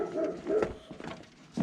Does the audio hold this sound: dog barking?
yes